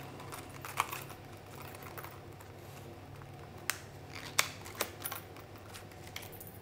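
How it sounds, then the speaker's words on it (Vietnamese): A box holding a frog fishing lure is opened by hand, with scattered light plastic clicks, taps and rustles, sparse and close, no talk over it. "Bây giờ mình sẽ mở hộp ra xem cái Fortune Nguyên Thủy mới về này có những gì"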